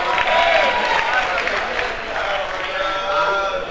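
A crowd at a music night claps with a thick, continuous roar of applause, with faint cheering mixed in, sustained at a steady loudness.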